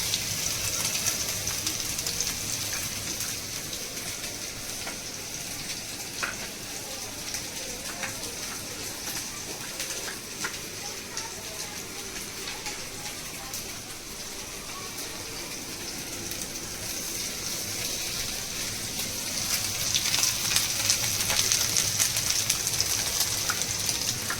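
Halwa fish fries in a pan with a steady, even sizzle and crackle that runs without a break and grows somewhat louder toward the end.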